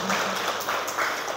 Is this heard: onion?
no